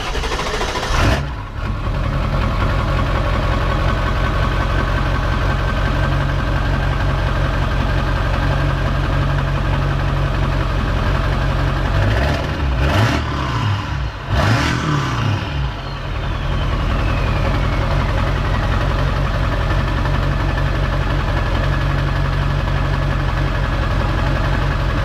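A car engine with a newly fitted exhaust tip cranks, catches and settles into a loud, steady idle close by, with a couple of brief revs midway before it returns to an even idle.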